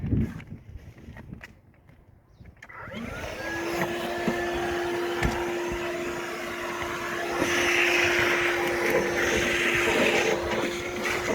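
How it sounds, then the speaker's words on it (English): A vacuum cleaner starts up after a few seconds of quieter handling noise and runs steadily with a droning whine, sucking leftover debris out of an evaporative swamp cooler; close, loud and constant with rattling bits of debris. "So I'm just going to suck up a bunch of that right now."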